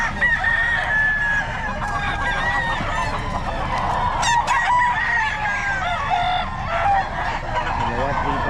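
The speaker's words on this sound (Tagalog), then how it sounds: "Boss Joey, magkano mga manok mo?" Roosters and chickens crow and cluck at a Filipino poultry sale, with several overlapping calls, some loud and close and others farther off, over a busy outdoor background and faint talk.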